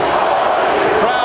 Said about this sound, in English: Crowd chanting for Holyfield, yelling "Holy!"